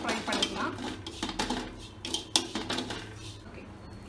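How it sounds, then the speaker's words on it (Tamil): Kadala curry spices with coriander powder being fried and stirred in a pan, a metal spoon scraping and clinking against the pan in irregular strokes, with a voice talking over parts of it. "இப்போ இதெல்லாம் நம்ம ஒரு 30 செகண்ட்ஸ்க்கு நல்லா ஃப்ரை பண்ணிக்கலாம்."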